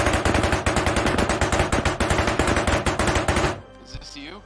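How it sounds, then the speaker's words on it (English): Rapid automatic gunfire in the video game ARMA Reforger, a loud, dense stream of closely spaced shots lasting over three seconds, then stopping abruptly as a faint voice and trailing sounds follow. "God, the gun sounds good."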